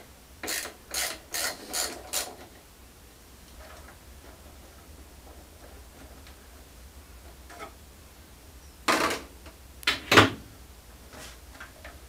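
Ratchet clicking while slackening the top caps on a bicycle fork during a rebuild: a quick run of about five loud clicks, then a quiet pause, then another short cluster of sharp clicks close by.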